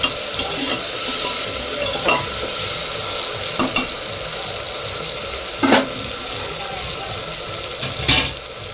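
Spice-marinated chicken sizzles in a pressure cooker while it is cooked for chicken biryani, a steady close frying hiss with occasional scraping stirs and clinks throughout.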